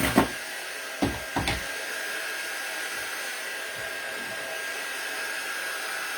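A hair dryer blows steadily on freshly painted wood craft decor, a constant close whooshing hum, with a few sharp knocks and clatters from handling the piece near the start.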